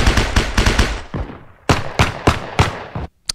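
Gunfire in the video game Battlefield 1, a loud, close rapid burst of automatic shots followed by several spaced single heavy blasts, each with a short decaying tail.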